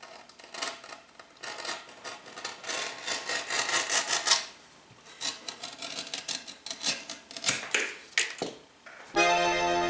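A straight razor or blade shaves off excess wood veneer with rough, rasping strokes in uneven bursts, close and fairly loud, ending in a sharp mechanical buzz.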